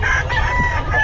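Rooster crowing close by, a single loud drawn-out call over a low background rumble, heard among gamefowl offered for sale.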